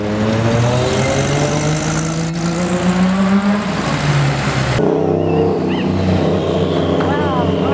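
A Volkswagen Fusca (Beetle) engine revs loudly and close by at an outdoor car meet in Praça Espanha, Curitiba, with a rising then falling drone that cuts off into quieter street noise and distant voices.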